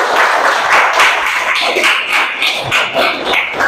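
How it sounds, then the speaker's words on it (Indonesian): A small classroom group claps together in a quick, uneven burst, the close, bright hand claps running steadily for a few seconds with no voices over them. "Tepuk tangan dulu untuk kita semua"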